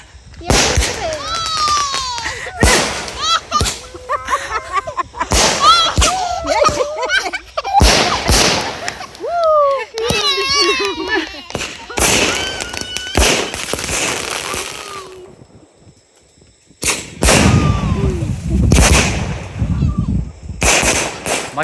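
AK-47 Diwali firecrackers burst near and loud in rapid crackling volleys. Sharp bangs repeat over about twenty seconds, with one short lull before the crackling resumes. Voices are audible among the blasts.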